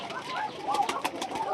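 Pigeons coo in a rounded, throaty rhythm, several soft calls repeating near at hand, with bird sounds on and off and a few faint higher notes over a quiet background.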